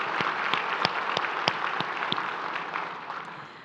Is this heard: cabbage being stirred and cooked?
no